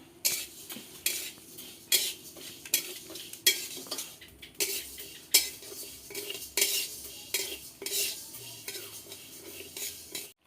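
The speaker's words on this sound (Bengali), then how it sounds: "আমি এখন খিচুড়ির জন্য ডালটা ভেজে নিচ্ছি।" Mung dal dry-frying in a pan for khichuri, a soft continuous sizzle punctuated by rhythmic metallic scrapes of a spoon stirring against the pan, close and fairly quiet, with no talking.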